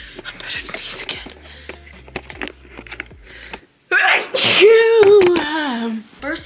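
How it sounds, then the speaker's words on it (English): A woman sneezes loudly and close after quiet whispered talk and a brief pause, the sneeze followed by a drawn-out vocal sound. "Hold on, I'm about to sneeze again."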